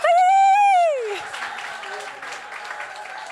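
Applause rises from an audience at a startup awards event as nominees are named, following a long sung or cheered note. The clapping stays fairly soft and steady while a voice continues over it.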